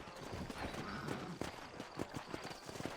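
Horse hooves trotting in Red Dead Redemption, a quick, even clip-clop of steps close by with faint game ambience and no talk.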